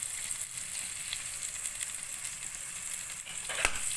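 Butter sizzling in a pan as the base for a peri-peri sauce, a steady bright hiss with soft crackles throughout and one sharper pop near the end, close and alone.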